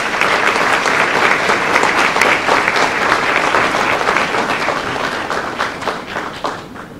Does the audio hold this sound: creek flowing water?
no